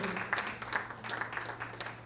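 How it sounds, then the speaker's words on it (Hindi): An audience applauds to welcome a guest at a sixth annual day celebration, a steady crowd of hands clapping at moderate volume over a low hum, with no letup. "एक बार जोरदार तालियां से हम लोग उसका स्वागत और अभिनंदन करना चाहेंगे"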